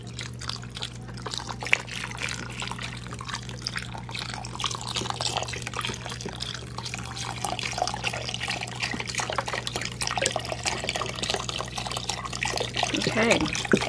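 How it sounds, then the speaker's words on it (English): Low sodium chicken broth, a full 32-ounce carton, poured into a pot for white chicken chili, a steady close liquid pour and trickle running throughout over a constant low hum. "32 ounces, the 4 cups of the low sodium chicken broth. We're going to get that in."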